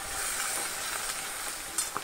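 Fish frying piece by piece in hot oil in a wok, a dense continuous sizzle and crackle at close range, with no voices.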